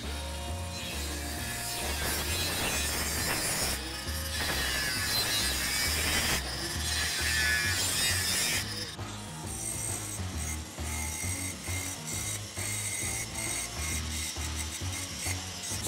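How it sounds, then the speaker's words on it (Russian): An angle grinder cuts through a steel profile tube, giving a continuous harsh, gritty grinding roar whose tone shifts partway through as the disc bites, with no voices. "С помощью болгарки отрезаю эти намеченные отрезки."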